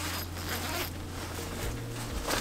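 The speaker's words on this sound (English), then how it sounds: "It has a zipper on both sides." A zipper on a fitted RV mattress bedding bag rasps along in a quick, continuous pull, close by, with a low steady hum underneath and no talking.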